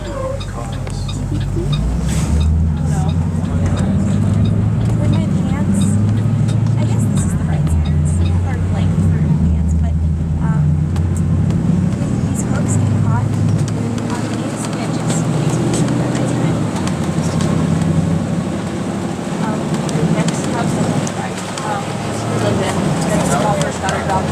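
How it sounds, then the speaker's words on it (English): Park law enforcement vehicle at Mammoth Cave driving past, a steady low engine rumble and road noise that stays loud and close throughout the stretch. "there's the World Park law enforcement that is driving by right now"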